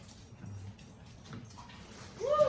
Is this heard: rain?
no